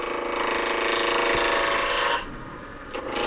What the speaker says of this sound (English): So I'm turning the lathe on, and we call this a roughing gouge.